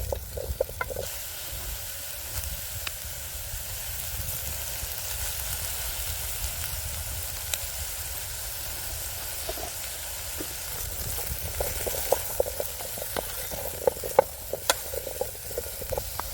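Spring onion frying in oil in a pan on a Trangia camping stove outdoors: a steady soft sizzle throughout, with occasional crackles and pops growing more frequent toward the end, no talking.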